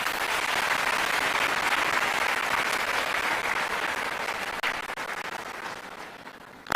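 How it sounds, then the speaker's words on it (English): Broad, steady applause fills a concert venue after a live performance of Handel's Coronation Anthems at a 25th anniversary celebration for Otumfuo. It holds at full strength, then gradually thins and fades toward the end, with no speech over it. "Another round of applause, please."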